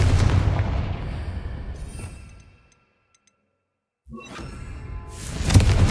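Confringo fire spell exploding in the video game Hogwarts Legacy, a loud booming blast fading into silence, followed by another rumbling burst.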